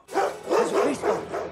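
Dogs in a TV show bark in quick repeated bursts, about four loud close yaps with a whiny edge and no talk over them.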